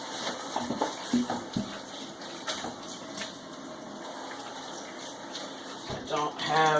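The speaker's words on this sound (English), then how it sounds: "So, just going to rinse the bugs out of this." Water rinsing bugs out of a worm bin that sat all winter, a soft splashing and trickling flow under faint background noise, with a brief louder gush at the end and some speech present.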